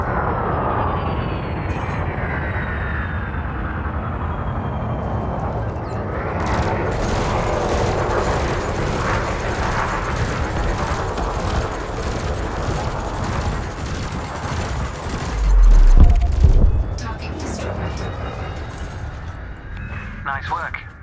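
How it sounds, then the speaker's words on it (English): Spaceship multi-cannons fire at a drone in the video game Elite Dangerous, a sustained rapid rattle of shots over engine rumble, with a heavy burst near the end. "You may have noticed that multi-cannons are effective against unshielded targets."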